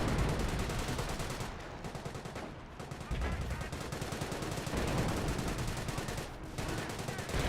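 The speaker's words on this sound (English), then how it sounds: "now we got the sector artillery, or that's the British sector overwatch" Sustained barrage of gunfire and explosions from British sector artillery in the World War II strategy game Company of Heroes, dense and continuous with several sharp heavier blasts.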